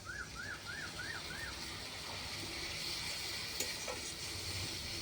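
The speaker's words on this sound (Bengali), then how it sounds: "পানিটা দিয়ে মশলাটাকে আমি ভেজে নেবো।" Ground spice paste with ginger, garlic and cumin frying in a pan with a splash of water, making a steady low hiss and gentle bubbling, with a few faint chirps at the start.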